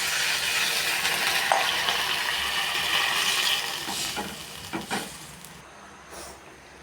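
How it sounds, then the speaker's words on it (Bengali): Water poured into a sizzling curry of mashed boiled potato in a pan, a strong hiss that settles into quieter bubbling, with a few metal clinks and scrapes of a spoon. "এবার জল দিয়ে দেবো।"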